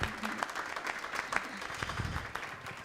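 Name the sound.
audience applause for a speaker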